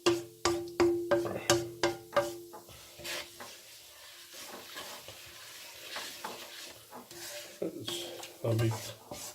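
Mixed vegetables stir-fried Punjabi style in a pan, with a rhythmic run of sharp spatula clanks and scrapes against metal over a low sizzle, easing into quieter stirring with occasional knocks.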